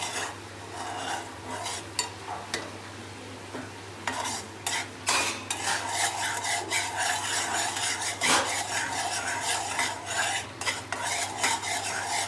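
A spoon scraping and stirring cashew sugar syrup in a pan, a continuous close rasping swirl of metal against the pan bottom under a low steady hum, with no talk.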